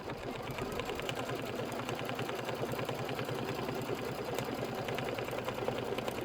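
An embroidery machine stitches out a house placement line, its needle hammering in a fast, even mechanical rhythm with a steady motor hum throughout, close and constant.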